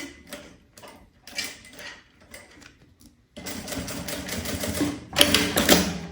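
A sewing machine stitches fabric for a Mickey-themed zippered pouch, running in short bursts at first, then in a steadier, louder run with a final fast, loud spurt near the end.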